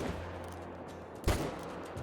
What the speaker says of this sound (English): I think we should still be able to get a shot in there.